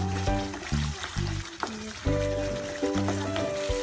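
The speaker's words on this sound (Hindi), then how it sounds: "जब तक तेल ना छूटे मसालों में से तब तक हम इसे भूनते रहेंगे।" Spices sizzle in hot oil in a kadhai while being fried for restaurant-style kadhai paneer, with a steady close crackle that sits under background music.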